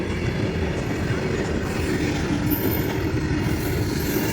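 A freight train rumbles past close by, a loud continuous roar of wheels on rails with clattering and an occasional high squeal.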